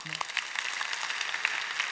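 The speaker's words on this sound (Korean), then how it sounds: "박수" Brief burst of applause from a church congregation during a Sunday service, a light scatter of claps lasting about two seconds with faint voices underneath.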